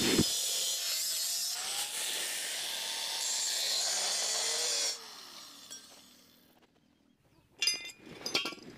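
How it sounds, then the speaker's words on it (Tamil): A square pipe is cut along a marked section, giving a steady loud rasping cut that holds for about five seconds, drops away, then ends with a few sharp metallic clinks. "அந்த மார்க் பண்ண இடத்த மட்டும் இப்போ கட் பண்ணி எடுத்துருவோம்."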